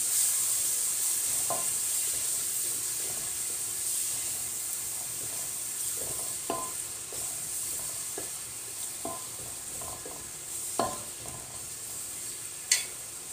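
Onions sizzling and frying in hot oil for rice bukhari with chicken, a steady bright hiss throughout with occasional stirring clicks and scrapes of a utensil against the pan.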